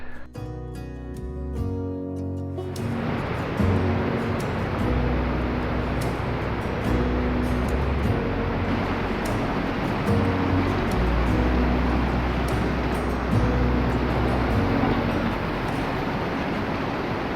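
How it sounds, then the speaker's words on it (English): Sea water surging and crashing around a person standing in waders offshore, a loud, continuous broadband roar of surf after a brief gap at the start, filling the whole stretch with no talk over it. "I'm shouting because the noise of the water is absolutely phenomenal"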